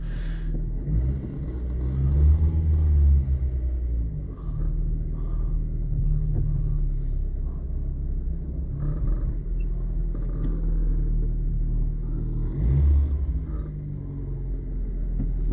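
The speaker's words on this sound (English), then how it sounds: "I'll do a little drive of it going into the garage." A 1989 Opel Corsa sedan rolls slowly into a garage, its engine rumbling steadily and loudly up close with a couple of brief revs swelling over the low drone, no talking.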